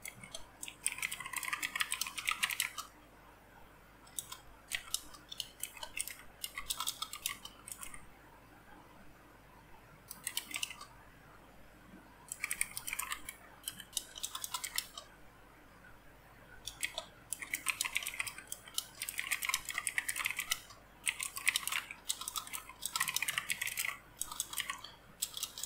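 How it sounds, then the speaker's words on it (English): Someone types quietly on a computer keyboard in bursts of rapid clicking, broken by short pauses. The sound is faint and close, with no voices. "just type your prompt like this"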